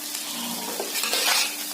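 A spoon stirs cauliflower curry (gobi sabzi) in a hot pan, with steady scraping and sizzling close up, swelling slightly toward the end.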